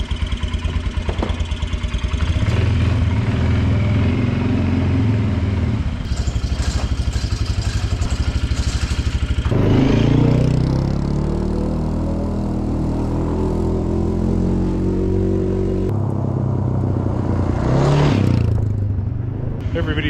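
A Kawasaki Brute Force 300 ATV engine, with a hard-starting problem, idles loud and close in a steady low drone, with a few shifts in pitch and revving partway through, and a voice speaking over it.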